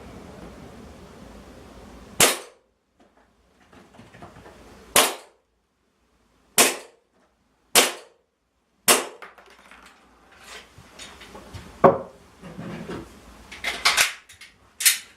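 An airsoft gun fires a five-round grouping at a target's head at an indoor range: sharp, loud single cracks, spaced a second or more apart, with a quicker cluster near the end and quiet handling noise between shots.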